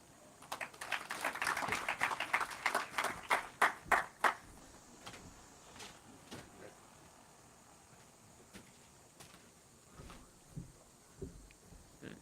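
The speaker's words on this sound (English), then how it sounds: "another round of applause for Mr. David Onen" Audience clapping at the YouLead Summit 2024, a burst of applause that swells over the first few seconds, then thins into scattered individual claps and fades.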